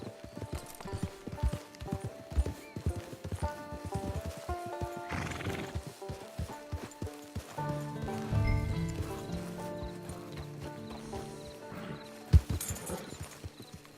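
In Red Dead Redemption 2, a horse's hooves clip-clop in a steady rhythm while it snorts and gives a loud whinny partway through, heard over a soft musical backdrop.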